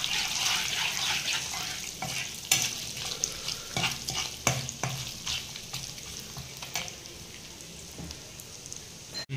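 Cashews and coconut roast in a pan, giving a steady crackling sizzle broken by frequent scraping stir strokes, close and fairly quiet, with no one talking.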